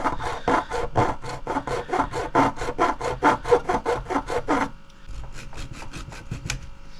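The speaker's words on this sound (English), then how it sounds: "Then again with the razor saw, I'm just going to just save cutting" A razor saw cuts through a thin part for a detailed GWR water tower model, a fast run of about twenty even rasping strokes up close that stops abruptly, leaving faint handling noise afterward.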